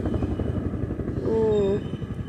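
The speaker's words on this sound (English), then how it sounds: "There's a helicopter there. I think I want to wait until the helicopter passes because the sound is too loud." A helicopter passing overhead outdoors, a loud steady rotor drone with dense rhythmic chopping that swells toward the middle and holds throughout, alone with no talk.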